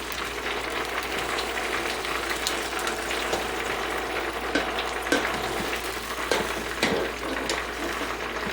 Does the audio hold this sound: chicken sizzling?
yes